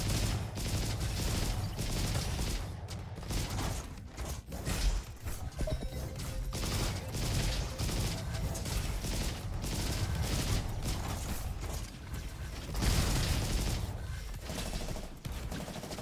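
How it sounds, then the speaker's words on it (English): Rapid, dense gunfire from a shotgun in the video game RoboQuest, blasts coming in quick, nearly continuous bursts with mechanical clatter and impacts, loud and close, no talking over it. "I like the grandma shotgun."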